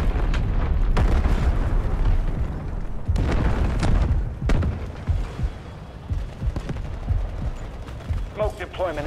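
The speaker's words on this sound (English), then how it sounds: "Artillery cover coming." Artillery barrage in the video game Delta Force, heavy booming explosions and crackling blasts rolling one after another, loud and dense at first, then thinning into scattered impacts.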